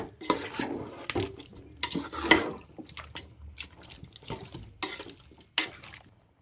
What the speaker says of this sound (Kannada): ನೆಕ್ಸ್ಟ್ ಇದನ್ನು ಕೂಡ ಒಂದ್ಸಲಿ ಚೆನ್ನಾಗಿ ಮಿಕ್ಸ್ ಮಾಡ್ಕೊಳ್ಳೋಣ.